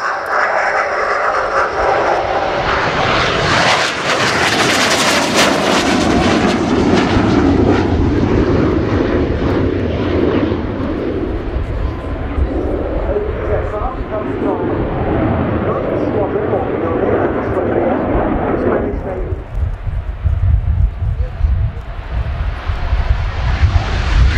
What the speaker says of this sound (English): EAV-8B Harrier 2 Plus.